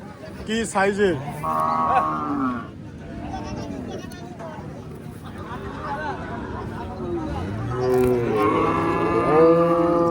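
A cow moos several times, low and drawn out, amid the murmur of a busy qurbani cattle market with people talking nearby.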